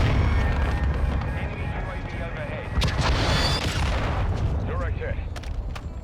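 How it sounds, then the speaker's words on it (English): In Modern Warfare 2 multiplayer, a cruise missile killstreak hits with heavy booming blasts and rumbling, mixed with gunfire in dense, loud game audio while a player talks throughout. "let's go ahead and call in this cruise missile"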